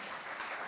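Dense applause from an audience at a talk-show style presentation by an entertainment company president, a brief, steady burst of many hands clapping close by with no voices over it.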